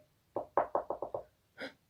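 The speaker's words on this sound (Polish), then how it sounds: "Czy usłyszał pukanie?" Six quick, quiet raps on a door in a tight, even burst, then a pause and one softer, rounder sound, all against near silence.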